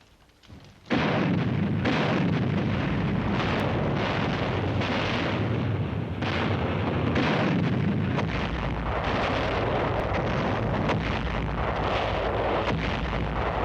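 Heavy naval shells bombard an island ahead of a Marine beach landing, a continuous roar of booming explosions and artillery fire that starts abruptly and rolls on loud and dense without pause, with no voices.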